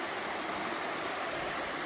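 Rushing river flowing about 30 feet below a small cliff in the Cranberry Wilderness, a steady broadband wash of water heard from above, continuous and unbroken, with no voices.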